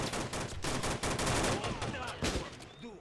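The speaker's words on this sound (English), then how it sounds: "while they're having a firefight up there" Rapid bursts of rifle and machine-gun fire from a firefight in the video game Men of War: Assault Squad (Cold War mod) crackle in dense, overlapping volleys, with a voice speaking briefly near the end.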